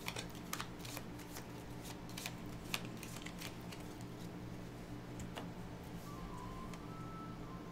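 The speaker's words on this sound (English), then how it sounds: "So could you shuffle these, please?" A deck of game cards for Aeon's End Legacy is shuffled at a quiet table, giving soft rapid riffling and clicking bursts with no voices.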